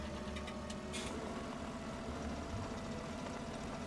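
A tractor engine idles steadily in Farming Simulator 17, a continuous low mechanical drone with a faint hum, unchanging and alone with no voices.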